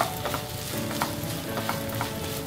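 Ginger garlic paste is stirred into potatoes frying in oil, with a steady close sizzle and a spoon scraping and clinking against the pan in quick strokes.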